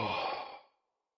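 A man's yawn heard alone and close, one long breathy exhale that starts strong and fades out over most of a second.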